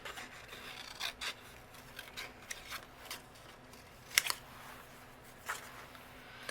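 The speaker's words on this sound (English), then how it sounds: "And just using my scissors." Small scissors snip around a paper holly cluster for a gift card holder, with quiet, irregular cuts and paper rustles, one sharper snip standing out, close and without talk.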